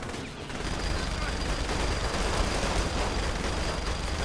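Dense, continuous gunfire and explosions from a grenade launcher in the video game Saints Row: The Third, loud and sustained for the whole stretch with a brief lull at the start.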